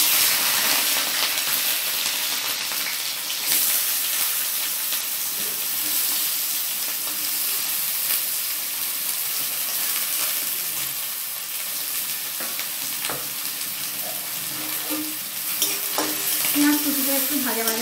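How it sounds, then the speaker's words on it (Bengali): Chopped onions fry in hot mustard oil in a wok for piaj posto, giving a steady, close sizzle with occasional scraping stirs throughout and no talk. "কড়াই আমি সর্ষের তেল দিয়েছি, এটা আমি সর্ষের তেলেই রান্না করব। প্রথমে তেল গরম হয়ে গেছে, আমি পেঁয়াজগুলো দিয়ে দেব।"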